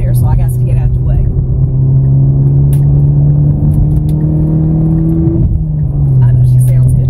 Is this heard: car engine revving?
yes